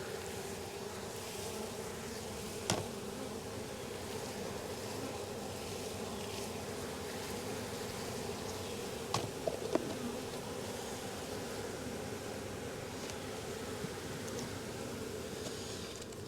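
A dense, steady buzz of many honey bees at a hive in Jacksonville, Florida fills the air, close and continuous, with a few soft knocks and rustles.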